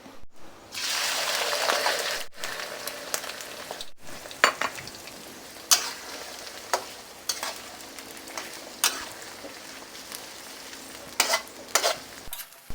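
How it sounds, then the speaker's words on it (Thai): Small freshwater shrimp hit hot oil with a loud rushing hiss that settles into a softer sizzle, broken by repeated sharp scrapes and clinks of stirring in the pan. "นำกุ้งฝอยเนี่ย ทอดกับน้ำมัน อทอดน้ำมันให้สุกก่อนต้องน้ำมันร้อนๆเราทอด"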